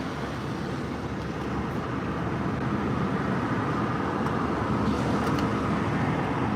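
Steady roadway traffic rumble with passing cars and heavier vehicles, continuous broadband noise at moderate level with no voices.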